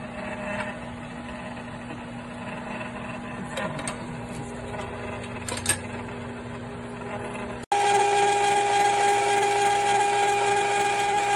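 A Cuisinart ice cream maker churns chocolate mix with a steady motor whine and mechanical hum, continuous throughout and growing louder and closer near the end, with no talking.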